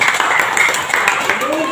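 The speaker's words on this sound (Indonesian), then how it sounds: "Oke, tepuk tangan luar biasa" Applause from an audience at a company ceremony handing out car awards, dense steady clapping filling the short stretch, with voices mixed in underneath.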